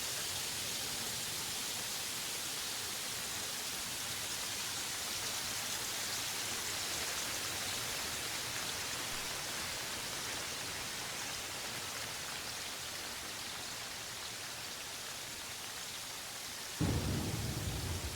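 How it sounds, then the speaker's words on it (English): Steady, dense rain with a low thunder rumble from a video game's ambience, a continuous wash that holds evenly throughout and swells slightly louder near the end. "Get a new rain sound effect."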